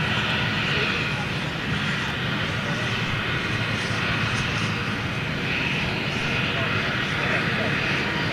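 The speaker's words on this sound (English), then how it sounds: "Of course, this is one of their Dreamliners." A British Airways Boeing 787 Dreamliner's engines give a loud, steady, broadband roar that holds constant throughout, close by and dominating everything else.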